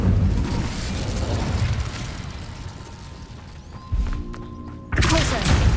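An Incendio fire spell is cast in Hogwarts Legacy, a burst of roaring flame and booming impacts with mechanical rumbles, a brief lull, then another loud surge near the end.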